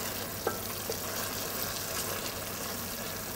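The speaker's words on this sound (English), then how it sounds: "Gently stir the brinjal into the sauce" Brinjal being stirred into a simmering tamarind sauce, giving a steady soft frying hiss throughout with a faint stirring scrape near the start, nobody talking.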